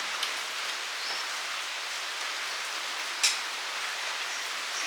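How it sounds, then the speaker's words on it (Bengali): Heavy monsoon rain falls in a steady, even hiss, broken once by a short sharp tap. "যা বর্ষা হচ্ছে"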